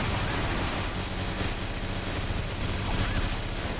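Sustained automatic gunfire from a weapon in the shooter game Crossfire (Đột Kích QQ), a dense continuous burst of rapid shots with engine-like rumble underneath, steady and loud throughout.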